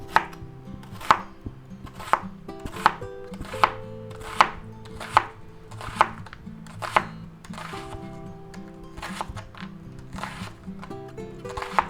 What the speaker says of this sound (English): And we'll go ahead and slice that up.